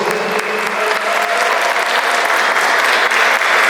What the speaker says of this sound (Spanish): Un fuerte aplauso para el Under del Sur.